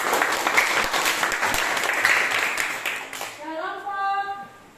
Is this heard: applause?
yes